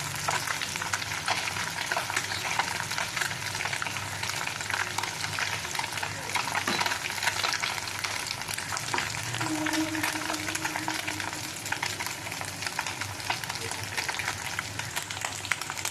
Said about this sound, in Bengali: দেখুন মাছগুলো ভাজা হয়ে গেছে